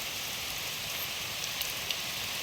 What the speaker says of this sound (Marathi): इतका जोराचा पाऊस चालू आहे